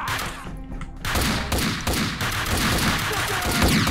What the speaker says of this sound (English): those three shots should have been all headshots, right?